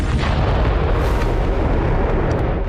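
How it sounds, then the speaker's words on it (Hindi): A Russian glide bomb explodes and destroys a building in Kherson with a loud, sustained roar of blast and crumbling rubble, thick rumbling that fills the whole moment with no voices. "सोमवार को आखिरकार रूस का ग्लाइड बम यहां पहुंचने में कामयाब हुआ और जोरदार धमाके के साथ इमारत मलबे के ढेर में बदल गई।"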